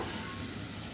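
Oil sizzles and crackles steadily in a hot pan as a tempering for cucumber dal fries, a dense close frying hiss.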